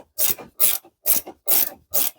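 A wrench ratchets on an axle bolt in five evenly spaced, rasping strokes, close and fairly loud with short gaps between each pull, no talking.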